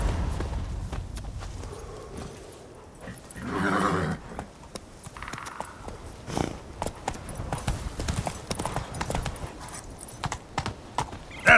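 In The Witcher 3 video game, the horse Roach gallops with quick, rhythmic clip-clop hoofbeats at fairly low volume, and a short whinny rises midway.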